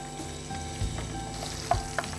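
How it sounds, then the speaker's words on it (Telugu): Onion pieces frying in a pan give off a steady, close sizzle that runs throughout, with a few soft stirring knocks and no talking. "ఉల్లిపాయ ముక్కలు కొద్దిగా వేగాక బాగా వేగాలి"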